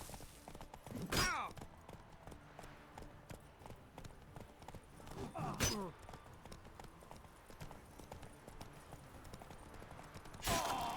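A horse's hooves clip-clop in The Witcher 3 as it sets off at a run, rhythmic hoofbeats under combat noise and game voices, with sharp bursts of sound at intervals.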